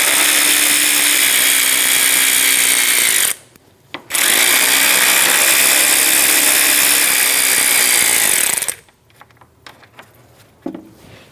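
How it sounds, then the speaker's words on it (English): A power tool with a 10mm socket spins out the fan bolts on a 2005-2009 Subaru Legacy, giving two loud, sustained high-pitched whirring runs separated by a short pause, followed by quieter clicks and handling noises. "Using a 10mm socket, remove the top 2 bolts for the fan."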